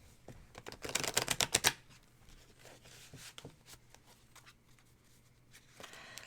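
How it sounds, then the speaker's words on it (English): Tarot cards being shuffled by hand, with a quick close run of crisp riffling flutters, followed by quieter scattered taps and card handling in a calm room. "I will shuffle."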